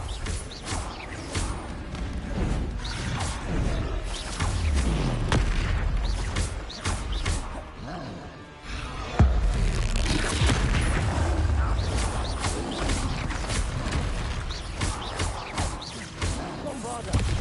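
Bombarda and Confringo explosion spells cast in Hogwarts Legacy, repeated booming blasts and rumbling impacts under a dense game soundtrack, with spoken voices calling out over the action.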